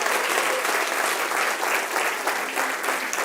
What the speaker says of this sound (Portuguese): aplauda forte o nome dele